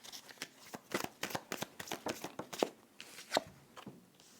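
Tarot cards are drawn and laid out from a deck in a quiet room, giving a run of close, soft papery snaps and slides in an uneven rhythm, with no talking.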